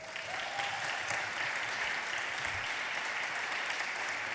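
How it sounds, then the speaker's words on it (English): An awards ceremony audience claps for a nominee as her name is announced, a steady, moderately distant wash of applause running through the whole stretch without pause. "you can applaud them when we announce their names"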